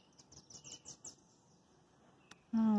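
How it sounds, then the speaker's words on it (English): Small birds chirp outdoors near a picnic table in a church courtyard, a quick series of faint high tweets early on, followed by a single click and a sudden loud tonal sound at the end. "Those birds are just chirping away."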